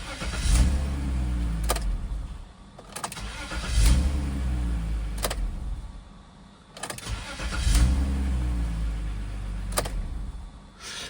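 BMW X5 E53 with an M54 engine with a strange noise, cranked and started repeatedly: several cranking bursts, each catching into a rough idle, heard close and fairly loud with short pauses between starts.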